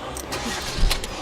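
A jeep engine cranks and catches in a short, loud burst, a low rumble swelling near the end amid a tense getaway.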